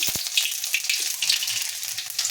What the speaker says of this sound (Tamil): கொஞ்சமாக எண்ணெய் ஊற்றிருக்கேன் அதில் வந்து பார்த்திங்கன்னா சோம்பு கொஞ்சம் போட்டுக்கிறேன்